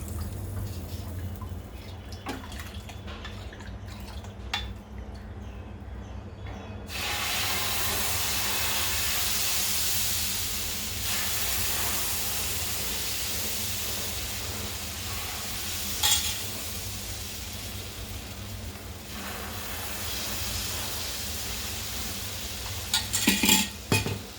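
Sorghum (jowar) dosa batter spread on a hot tava griddle sets off a steady, close sizzling hiss that swells a few seconds in and carries on, with a few light utensil clinks near the end.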